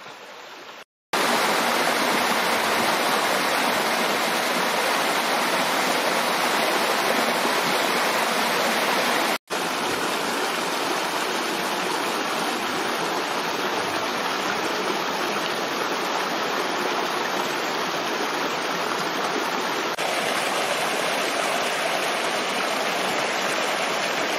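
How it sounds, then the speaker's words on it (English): The Gawarawila Oya river rushes near Upper Gartmore waterfall in Sri Lanka's Gawarawila Plains, a loud, dense, continuous roar of flowing water with a brief cut partway through. "trekking along this river Gawarawila Oya to reach the top of Upper Gartmore waterfall."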